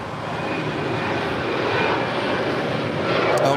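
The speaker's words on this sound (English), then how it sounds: "Go 6246, LA Tower, Airbus 321, touching down." An Airbus A321 lands at LAX, its engines roaring loud and steady with a broad rushing noise throughout, no pause or voice over it.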